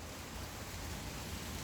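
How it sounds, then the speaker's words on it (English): Rain falls steadily, a dense, even hiss of water that holds at the same moderate level throughout, with no voices or other distinct sounds breaking through. "Yeah, it's raining, so what?"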